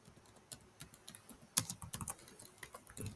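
Keys clatter on a computer keyboard as a folder name is typed, a quick uneven run of close, crisp clicks with one sharper keystroke partway through.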